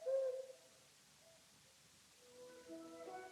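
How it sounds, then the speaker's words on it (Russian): A cuckoo calls in a forest-edge meadow in a film scene, soft two-note hoots near the start and again toward the end, quiet and distant over a hushed background. "пение кукушки"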